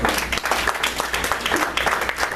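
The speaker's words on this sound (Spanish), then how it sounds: "Démosle un fuerte aplauso al Señor." A church congregation applauds together, a dense, steady wash of clapping lasting a couple of seconds with some voices mixed in.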